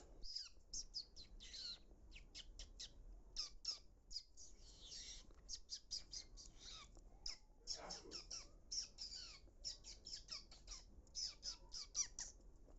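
A voice imitates duck and bird calls with a rapid string of high squeaky chirps and squawks, fairly faint, in quick irregular bursts.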